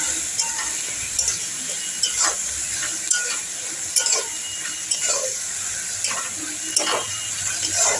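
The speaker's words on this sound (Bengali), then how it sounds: "এবার কুচিয়ে রাখা ধনে পাতাগুলো এর মধ্যে আমি দিয়ে দেব। দিয়ে এইভাবে একটু নেড়ে নেব।" Chopped coriander leaves are stirred into simmering daler bora jhal masala, with soft sizzling and bubbling under repeated scraping strokes and a few light clinks of a spoon against the pan.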